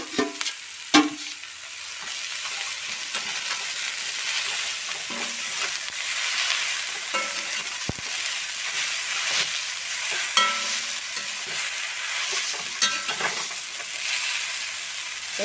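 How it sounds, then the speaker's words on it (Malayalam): Pumpkin leaves stir-fried with crushed chili in a pan give a steady loud sizzle, with a spatula scraping and knocking against the pan now and then and no talking. "നല്ല പോലെ മിക്സ് ചെയ്ത് കൊടുക്കാം."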